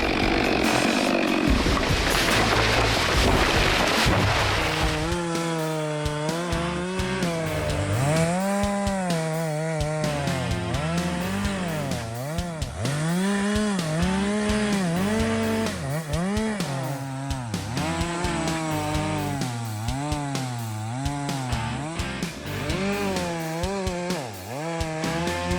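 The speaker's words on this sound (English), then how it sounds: "they were using a powerful style MS-462 chainsaw to fell large oak trees," Powerful Stihl MS-462 chainsaw felling large oak trees in a storm-ravaged forest, revving loudly with repeated rising and falling engine surges as the chain bites into the wood, close and sustained.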